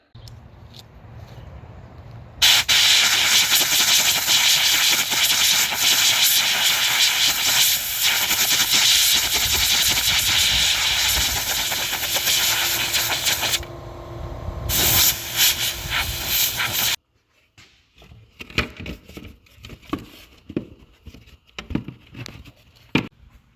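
Skid steer washed with a pressurized water spray: a loud, steady hiss of the jet running for long stretches, cutting briefly, then stopping and giving way to softer, intermittent splashing and dripping.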